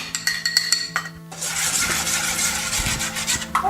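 A spoon mixes sour cream into a blueberry dessert in a bowl, starting with clinks and light taps and moving into steady, close rubbing and scraping strokes with no talk.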